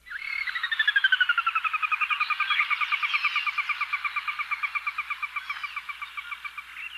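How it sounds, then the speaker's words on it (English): A loud, descending whinny of a Sora rail, a long rapid series of notes sliding downward and slowing, alone with no other sounds. "the Sora's song is a very distinctive, loud, descending whinny"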